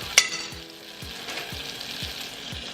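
Marshmallows dropped into melted butter in a pan, starting with one sharp clack, then a steady soft sizzle as a spoon taps and stirs in a regular rhythm, close up with no talking.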